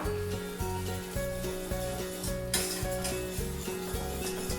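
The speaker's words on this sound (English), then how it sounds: "I like to give it a good mix." Brown sugar stirred into melted butter for caramel sauce, a soft steady rubbing and scraping in the pan, close and fairly quiet, with a steady hum in the background.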